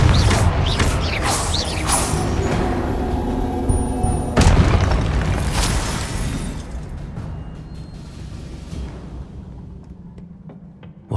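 Confringo explosion spell cast in Hogwarts Legacy during a trial quest: a loud booming blast with clattering, mechanical debris, then a second burst before the rumble slowly fades toward quiet.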